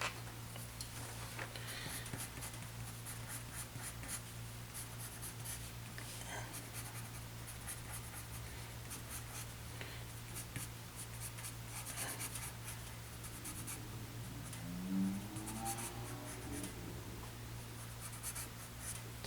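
Pencil scratching steadily across paper while a figure is sketched, a soft continuous close-up rubbing over a constant low electrical hum, with no voices.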